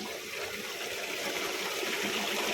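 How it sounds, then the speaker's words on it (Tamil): Rainwater rushing and trickling steadily into a roadside drain in Saudi Arabia, a continuous broadband wash that holds at an even level throughout with no voices. "இதுதான் அங்கே மழை பெஞ்சு ரோடெல்லாம் இந்த கிடக்கிற தண்ணியெல்லாம் அப்படியே இதுக்குள்ளே வடிஞ்சு அப்படியே அந்த குளத்துக்கு போய் சேரும்."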